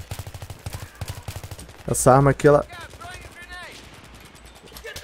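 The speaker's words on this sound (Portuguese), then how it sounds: "Ela dá rajadas só, ela não dá vários tiros seguidos." An M16A3 rifle fires quick bursts in Battlefield 3 Team Deathmatch, a rapid string of clipped shots at the start, then someone speaks briefly in Portuguese over fainter background gunfire and game sounds.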